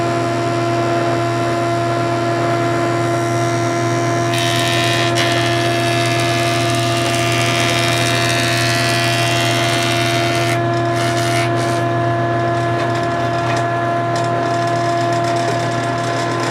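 A planer feeds wooden deck boards milled on a bandsaw mill, running as a loud, steady motor drone with a brighter cutting hiss in the middle of the clip, close by and without speech.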